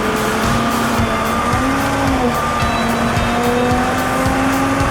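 A junk, fire-damaged Case backhoe runs and drives with a steady, continuous engine drone and a faint whine that holds through the whole stretch. The machine is fairly loud and close, with no voices.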